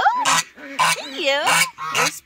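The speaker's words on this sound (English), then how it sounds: "So that's Jemima and Rebecca, two of my female ducks." Domestic female ducks call close by in a run of about five loud, harsh quacks with short gaps between them, and no other sound competes.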